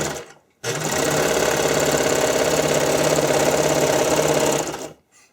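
A sewing machine runs continuously for about four seconds, stitching stretched fabric for skate covers, a close, loud, even mechanical whirr with a rapid needle rhythm, starting and stopping abruptly with brief silence at each end.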